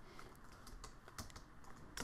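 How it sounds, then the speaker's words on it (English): Rapid typing on a computer keyboard, quiet and close, with irregular clicky keystrokes and a few louder taps. "when I'm typing my text"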